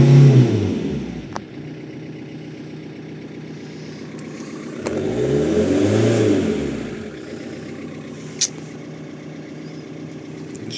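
A car engine revs under a floored accelerator pedal, a low, rising and falling roar that swells to a sustained peak midway, then eases back, with a couple of sharp clicks and no speech.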